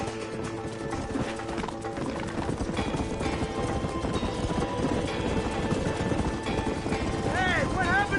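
Horses galloping in a video game, a fast continuous clip-clop of hooves under a swelling music score, with a brief whinny near the end.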